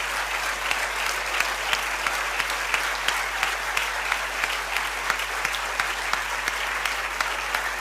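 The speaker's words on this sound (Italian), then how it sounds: "qui preparatevi un applausone grande" An audience at a talk on family, democracy and peace gives a loud, sustained round of applause, dense clapping continuing steadily throughout.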